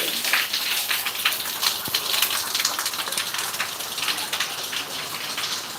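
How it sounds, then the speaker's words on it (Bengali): Steady rain patters and hisses on surfaces, with scattered drips popping through the even wash of noise; no voices. "বৃষ্টি হচ্ছে বৃষ্টি"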